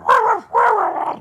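A dog barks twice in a radio studio, close and loud: two drawn-out, slightly growly barks in quick succession.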